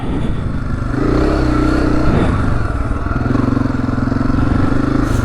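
A Honda CRF250F dirt bike runs close and loud through desert sand in Arizona, its engine droning steadily with rhythmic revving pulses throughout.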